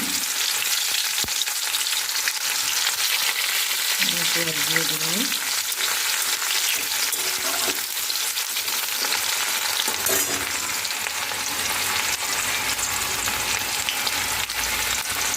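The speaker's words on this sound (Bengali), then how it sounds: "গরম মশলা জিরে ফোড়ন দিয়ে দিয়েছি পেঁয়াজ দিয়ে দিলাম" Onions fried with garam masala and cumin for a chicken curry, a dense, constant hiss of frying oil heard close for the whole stretch, with a brief faint tonal sound partway through and no talking.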